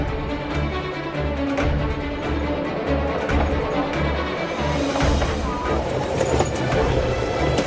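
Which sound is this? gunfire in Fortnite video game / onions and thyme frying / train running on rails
train running on rails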